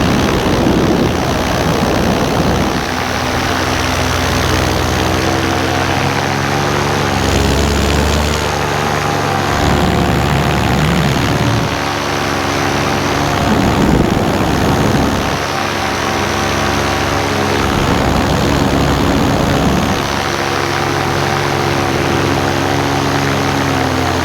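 A paramotor engine drones steadily in flight over a lake, loud and close. Its propeller hum rises and falls slightly in pitch, with wind rushing underneath and no talking.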